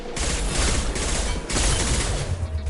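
Dense, sustained automatic gunfire from a Mass Effect 2 combat scene, loud and continuous with rapid overlapping shots and a brief dip midway, no voices over it.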